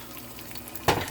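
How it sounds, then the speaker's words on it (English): Eggs dropping into hot oil in a pot for a breakfast with chicken sausage, a quiet crackle that bursts into a loud, steady sizzle near the end, close and alone. "So now I'm gonna start frying my eggs."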